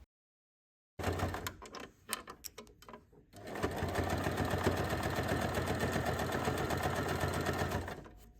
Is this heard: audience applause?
no